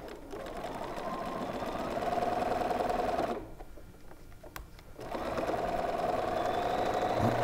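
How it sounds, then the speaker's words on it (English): A sewing machine runs steadily, stitching a quilt seam with a fast mechanical whirr, pausing for about two seconds midway before resuming at the same close, even pace. "So let's sew this last seam together."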